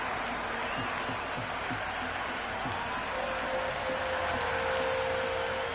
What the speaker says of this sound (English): The crowd love that one.